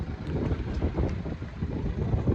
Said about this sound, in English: I hope it's not too windy, because it is a bit windy down here.